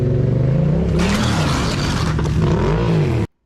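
A motorcycle engine revs loudly and close as the bike rides over a slippery surface, a steady throaty roar that swells briefly and then cuts off abruptly.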